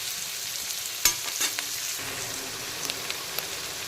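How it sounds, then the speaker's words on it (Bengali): Chopped onion frying in a pan for a spicy jackfruit and chicken potato curry, a soft steady sizzle with a few stirring knocks and clinks. "পেঁয়াজ কুচিটা কিন্তু খুব সুন্দর করে ভেজে নিয়েছি"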